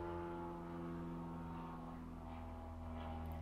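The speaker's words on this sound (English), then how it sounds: "So There's a plane." A loud airplane passes overhead outdoors, a continuous deep droning roar with steady low hum that fills the whole stretch, no talk over it.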